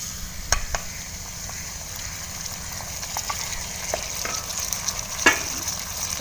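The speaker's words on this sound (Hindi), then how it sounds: "अब हम डाल लेते हैं 3 टमाटर फाइनली चॉप किए हुए" Finely chopped tomatoes fry with lightly fried onions for aloo bharta, giving a steady, close sizzle broken by scattered pops and crackles, with no talking.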